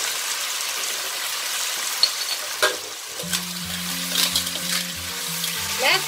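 Clams stir-fried with chili and black pepper sizzle steadily in a hot pan, with a close, continuous frying hiss and intermittent scraping and stirring clatter throughout.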